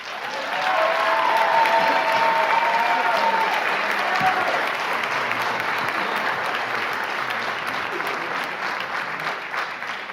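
Sustained applause from a county executive debate audience fills the room, a dense steady clatter of many hands with a few whoops, loud at first and slowly thinning toward the end.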